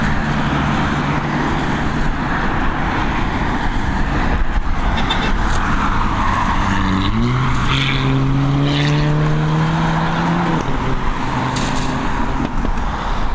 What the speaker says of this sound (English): Sounds like a Mark V Golf GTI.